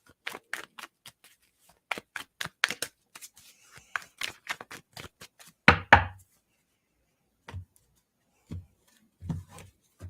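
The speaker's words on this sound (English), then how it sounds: "I'm going to just shuffle a little bit more." Tarot cards being shuffled in quick bursts of riffling and snapping, close and fairly quiet, with a few taps and pauses between.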